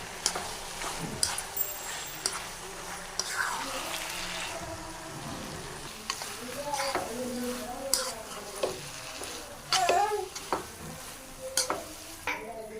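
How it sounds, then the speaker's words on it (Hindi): Vermicelli being stirred as it fries in a pan for a pickle-spiced sewaiyan dish, with a steady sizzle under repeated scraping and clinking strokes of a spoon against the pan; close by, with no talking. "तो अब हम इसमें सेवइयाँ डालेंगे। इसे डालने के बाद अच्छे से मिक्स करेंगे।"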